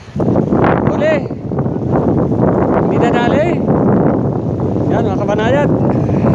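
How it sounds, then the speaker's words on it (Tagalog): Strong wind buffeting the microphone on a fishing boat at sea, a loud continuous rumbling roar, with voices and some whistling calls heard over it. "malakas ang hangin"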